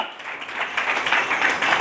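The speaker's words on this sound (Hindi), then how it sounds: "जोरदार तालियां" A congregation at a sermon claps in a dense, steady burst of applause that lasts under two seconds, with no talk over it.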